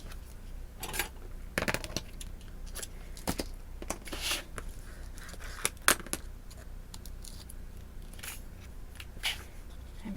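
Adhesive tape is torn and pressed onto a handmade paper gift bag flap, giving scattered sharp crackles and rips over a quiet background.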